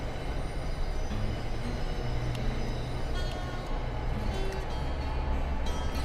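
A locomotive rolls steadily along the Morristown Line in Train Sim World 6, a continuous loud rumble of engine and wheels with faint rail squeals, no voices over it.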